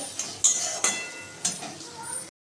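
Coriander and cumin powder being mixed into spices in a cooking pan, with a few distinct spoon knocks and scraping strokes against the metal, faint and close, over a quiet background.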